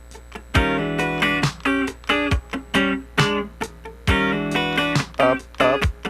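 Funk rhythm guitar part played with crisp muted chord stabs, upstrokes and downstrokes in a tight choppy rhythm with short gaps between hits, heard alone without speech.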